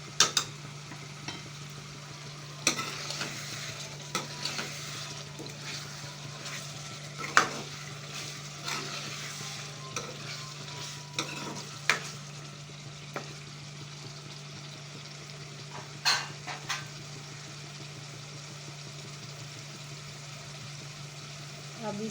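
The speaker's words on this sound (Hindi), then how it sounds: "और इसको मिक्स करेंगे।" Karahi gosht cooking in a pan with korma masala gives off a faint steady sizzle under a low constant hum, punctuated by occasional scrapes and clinks of a spoon stirring the meat at irregular intervals.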